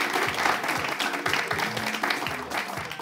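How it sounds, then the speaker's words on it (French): Steady applause from a game show audience fills the room, with rhythmic thumping beneath it, continuous and fairly loud throughout. "Merci de continuer à applaudir chez vous, à la maison."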